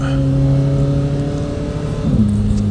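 A 2026 Corvette Z06 3LZ engine in sport mode hums with a loud, steady tone under load, then drops in pitch near the end as it shifts, heard from inside the car.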